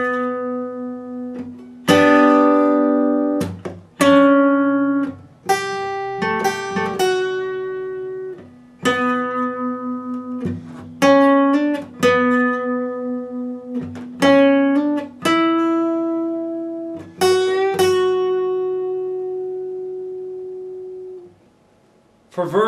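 Guitar introduction of a song at full tempo, a steady run of plucked chords and single notes ringing over a sustained low tone, each phrase starting with a bright attack and fading, alone without talk.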